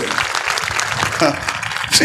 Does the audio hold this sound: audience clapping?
yes